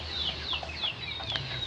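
Native kampung chickens cluck continuously at moderate volume, several birds overlapping with short rhythmic calls over a steady farmyard background.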